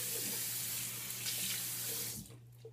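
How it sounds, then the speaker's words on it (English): Bathroom tap water runs in a steady close rush while a face is rinsed after a shave, splashing and gurgling for about two seconds before the flow cuts off abruptly. "We're going to go ahead and rinse off the face here."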